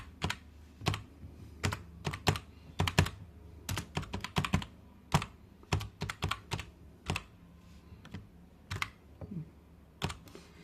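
Someone types Java code on a computer keyboard: close, crisp keystrokes in uneven bursts and quick runs, separated by short pauses.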